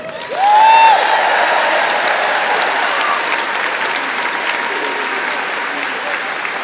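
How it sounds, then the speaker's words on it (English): Broad, steady applause from a large audience at an NYU Class of 2023 graduation ceremony held in a grand palace hall, swelling quickly and holding, with a brief whistle near the start. "Please give our graduates a round of applause."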